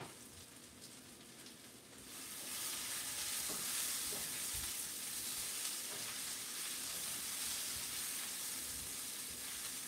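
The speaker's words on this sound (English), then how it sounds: "they got a little bit more sizzle than I want." Onions being deeply caramelized sizzle in a pan, a dense, steady frying hiss that swells up after a couple of seconds and then holds. Faint clinks are heard occasionally.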